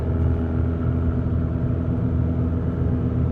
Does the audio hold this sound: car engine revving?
yes